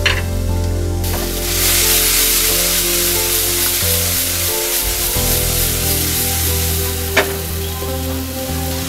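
Chopped tomatoes sizzling and frying in a hot pan for masala noodles, a steady loud hiss with occasional stirring scrapes throughout, no talking.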